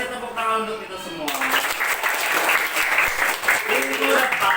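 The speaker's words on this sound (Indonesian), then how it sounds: "kita kasih tepuk tangan untuk kita semua." Fifth-grade pupils give a round of applause in a classroom, a steady wash of clapping that follows a teacher speaking and continues under talk.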